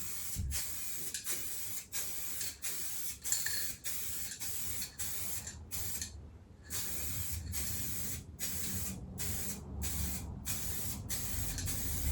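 A spray gun hisses in steady bursts while painting a guitar, each burst broken by a short pause, with a quieter mechanical hum underneath.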